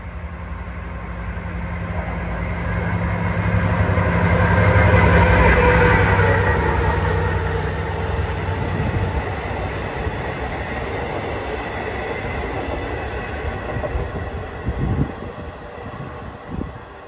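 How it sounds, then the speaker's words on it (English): A Long Island Rail Road passenger train approaching eastbound toward Oyster Bay and slowing for a crossover, giving a loud, continuous rumble of wheels and cars with a faint squeal, building and then holding steady nearby. "approaching eastbound is train 558 from Hunters Point Avenue to Oyster Bay"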